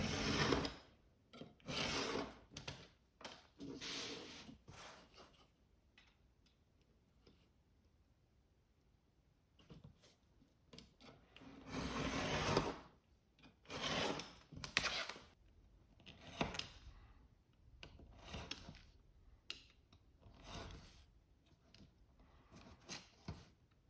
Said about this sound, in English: I'm gonna score one direction, then do final cut the other direction, and then come back and do the final cuts on the score marks